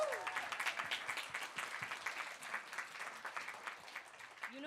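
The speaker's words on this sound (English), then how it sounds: "can we have one more round of applause for Ayush?" Applause from a TEDx talk audience, a full, even wash of many hands clapping at moderate volume, with brief cheering at the start and end.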